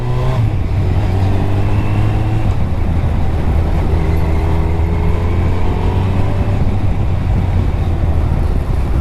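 A motorcycle engine on a summer evening ride revs up steadily, a loud continuous drone with rising and falling pitch that holds for the whole stretch, close to the microphone with no talking.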